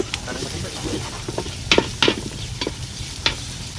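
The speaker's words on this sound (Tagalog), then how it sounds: "Antayin natin na medyo mag-brown yung bawang, saka lumambot yung sibuyas." Garlic and onion fry in a pan with a steady, close sizzle, while a utensil stirs and taps against the pan a few times.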